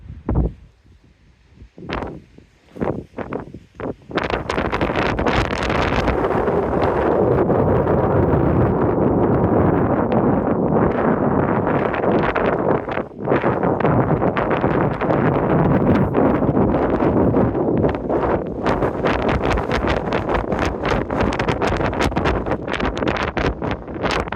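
Loud, steady wind roars and buffets the microphone almost nonstop after a few brief gusts, a dense rushing blast with no voices, on a granite ridge at Crystal Crag, Mammoth Lakes, with a storm approaching.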